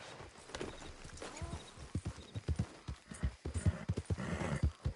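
Horse hooves clip-clop at a steady trot in Red Dead Redemption 2, a rhythmic run of fairly close, distinct thuds with a brief whinny-like tone early on and no talking.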